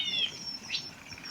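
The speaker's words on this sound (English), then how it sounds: "Plenty of striped-throated euhenas." Stripe-throated yuhinas give faint, thin high-pitched calls in a Bhutanese forest along a mountain road, two brief notes over a steady soft background hiss.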